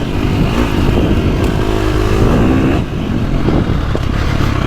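A 2025 KTM 350XCF dirt bike with an Akrapovic exhaust rides into the woods, its single-cylinder engine loud and close, droning steadily with a brief dip in revs.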